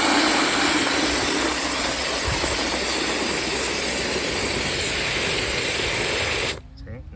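Water gushes into a bucket with car wash soap, making a steady broadband rushing hiss for several seconds before cutting off abruptly near the end.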